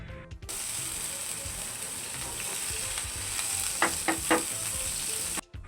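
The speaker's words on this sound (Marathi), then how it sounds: "आता आपण त्याच्यामध्ये लसूण कढीपत्ता आणि हिरवी मिरची ती टाकून घेऊ आणि तेलात थोडी परतून घ्यायची आहे" Garlic, curry leaves and green chillies sizzling in hot oil for bombil bhurji, a sudden hiss that starts on contact and holds steady, with a few quick clicking stirs of a spoon near the end.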